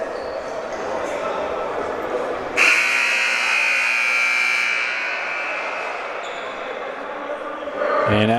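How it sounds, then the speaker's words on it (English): A loud, sustained buzzer sounds at halftime of a PCC Lancers vs. Cerritos Falcons men's college basketball game, rising over crowd murmur and gym noise and holding for several seconds, with commentary underneath. "as the buzzer rings, both teams come out of their huddles"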